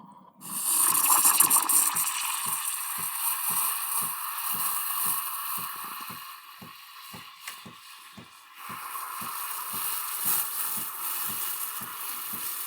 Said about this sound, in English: So I'm really stretching the milk now.